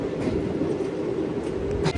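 The Repalle Express passenger train rumbles along the tracks, a steady loud roar of wheels and carriage noise heard from on board, with faint rhythmic clacks.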